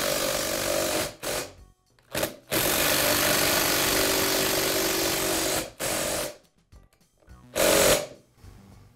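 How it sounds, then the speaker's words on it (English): A cordless impact driver drives self-tapping screws into an unthreaded casting during a Milwaukee band saw gear case repair, giving loud, close bursts of rapid hammering separated by short pauses, the final burst brief. "so I'll use the impact driver to install them"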